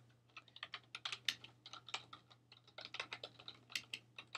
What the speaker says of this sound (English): we can type in a label for this